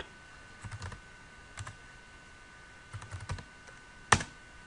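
A handful of scattered, soft keystrokes on a computer keyboard while a password is entered, in short bursts separated by quiet gaps and ending on a single sharper, louder key press.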